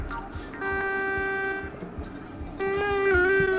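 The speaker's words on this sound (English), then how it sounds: "Okay, stop honking, mate." A train horn sounds in a Roblox train simulator game: one sustained blast, a short pause, then a second longer, louder blast whose pitch sags slightly near the end, over faint rumbling and clicks.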